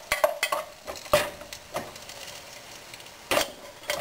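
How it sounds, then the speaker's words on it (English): Spaghetti aglio e olio cooks in a pot over an alcohol stove on the trail. A faint sizzle runs underneath while a utensil stirs and knocks against the pot in irregular, close clicks and scrapes. "Doesn't take much heat to get sizzling up."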